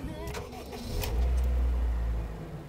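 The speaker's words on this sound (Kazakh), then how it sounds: "Звук, мотор звук анча деле угулбайт, тынч иштейт экен мотору." A used truck's engine cranks and catches, then settles into a low, quiet idle heard up close at a closed market, with a brief voice and some clatter before the start.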